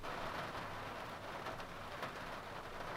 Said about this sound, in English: it's starting to rain a little bit harder